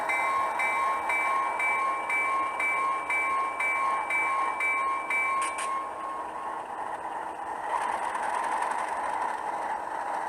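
A Kato RS-2 HO scale model locomotive with a sound decoder runs forward, giving a steady hum of engine and rail noise with a brief horn-like tone, close and continuous throughout.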